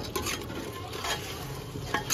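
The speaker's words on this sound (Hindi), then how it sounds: "अब इसको थोड़ी देर भूनते हो क्या?" Mutton frying in a pot with garlic-ginger paste makes a steady close sizzle, broken by soft scraping and stirring sounds throughout, with no voices.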